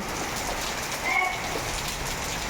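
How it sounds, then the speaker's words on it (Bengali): Torrential rain pours down in a steady, dense wash of noise during a stormy morning, with no gaps and an even level throughout. "তো দেখতেই পাচ্ছেন মুষলধারে বৃষ্টি হচ্ছে"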